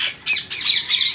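A wild female Indian ringneck parrot lets out a harsh, shrill squawk, a quick run of loud, close calls over about a second with no talk.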